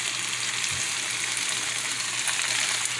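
Vegetables for tomato curry potatoes fry in a pan with a steady, dense sizzle that holds even and close for the whole stretch, with no voices.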